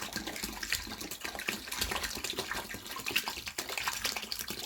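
Tap water from a 1.5 litre bottle pours and gushes onto a mix for a flowerpot or stool, a continuous close splashing flow with no voices.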